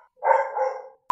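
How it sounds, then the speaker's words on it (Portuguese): A dog gives a single fairly close bark that trails off over most of a second, alone in a quiet enclosed room, followed by a brief sharp tonal beep. "E o cachorro late."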